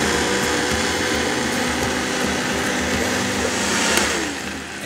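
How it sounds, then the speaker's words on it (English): A blender runs continuously at high speed, pureeing garlic with vinegar and chile adobo, a loud, steady whirring roar with no talk. "when all of the garlic is thoroughly pureed"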